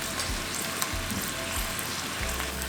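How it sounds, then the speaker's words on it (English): Kielbasa sausage frying in a pan until browned, a steady broad sizzle with occasional low stirring thumps, fairly close and continuous. "We'll cook the kielbasa also, and we'll cook this until it browns."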